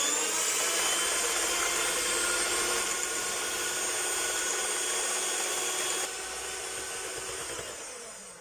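An electric mixer beats eggs into a snowball cake batter, a steady whirring hum that stays continuous and fairly close, easing slightly lower in level toward the end with no talk.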